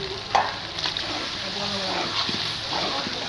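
Spice paste of turmeric, chilli, cumin and coriander powders with chopped green chilli fries and is stirred in a pan for a village-style mutton curry: a steady close sizzle with scraping strokes and a murmur of voice beneath.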